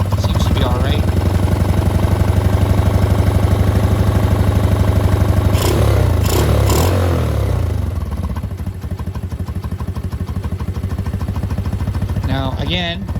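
A motorcycle with a stalling problem idles loudly with a steady rumbling chug, its pitch dipping and surging briefly midway before settling back to a rough idle.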